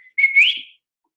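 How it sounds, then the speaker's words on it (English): A single rising whistle used to call a dog, one clear, loud tone that swoops upward and lasts about half a second before silence. "We whistle, and when they hear that whistle, then they come."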